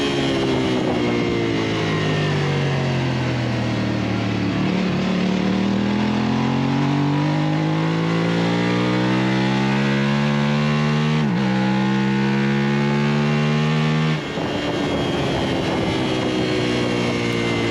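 Several racing motorcycles scream along a track during a novice race, a loud steady high-revving engine drone that climbs and drops as gears change, close and continuous with no talk.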